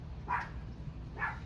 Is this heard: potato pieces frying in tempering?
no